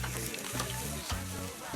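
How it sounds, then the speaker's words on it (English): Steak and lobster sear in butter with a steady close sizzle, a low hum running underneath and a few soft clatters. "I like to hear that sizzling, that searing."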